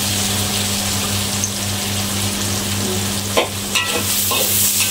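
Garlic sizzles and fries steadily in a hot pan, a dense continuous crackle with a low hum underneath and a few brief stirring scrapes near the end.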